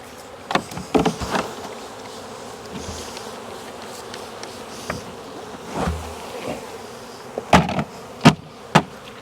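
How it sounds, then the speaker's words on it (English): Honeybees buzzing over a low outdoor hum at an apiary while bees are shaken from frames, with a few sharp knocks and thumps standing out toward the end. "And that's how we shake bees."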